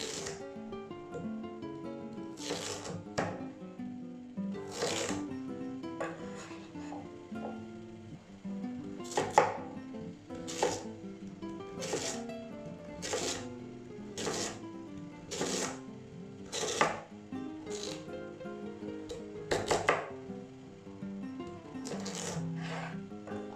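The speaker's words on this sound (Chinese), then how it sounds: "再将紫薯跟地瓜切成薄片，你也可以适当的切成小丁" Purple yam and sweet potato being sliced thin with a knife on a board, a series of crisp, regular chopping thuds over soft background music.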